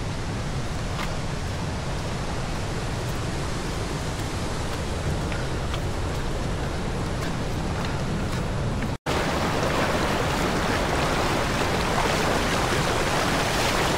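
Continuous broadband wash of sea waves and surf on a coastal trail, steady and fairly loud throughout, with wind noise and a brief dropout near the end.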